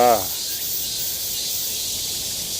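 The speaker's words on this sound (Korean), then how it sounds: "이 지금 여름 이 매미 소리가" Cicadas sing in a summer mountain forest on Mangwolsan near Cheongju, a steady high buzzing drone that fills the clip from start to finish, fairly loud and continuous after a brief low sound at the very start.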